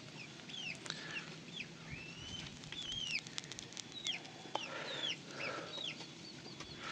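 Chickens clucking repeatedly at close range in a rural farm setting, a steady run of clucks with faint background noise and no talk.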